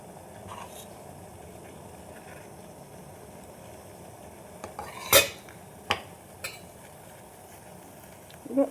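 Idli batter being spooned into metal idli moulds in a quiet kitchen, heard as a few sparse metallic clinks and taps of a spoon against the trays over a faint background hum. No talking.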